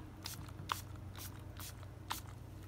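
Body spray or perfume squirted from an aerosol can in a few short hissing bursts, spaced irregularly over a low steady hum, close and fairly quiet.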